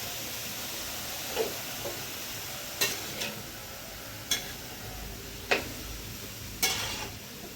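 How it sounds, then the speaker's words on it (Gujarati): Carrot halwa stirred in a pan over the gas flame, with a spoon scraping and tapping the pan in a handful of separate, sharp strokes over a faint low sizzle. "હવે એને ઘડીક આપણે હલાવતા જશું"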